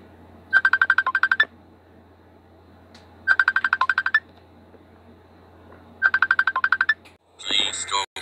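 A Messenger app call ringtone plays as three evenly spaced bursts of rapid, bright trilling tones separated by short pauses, followed by a brief louder rustle or voice at the end.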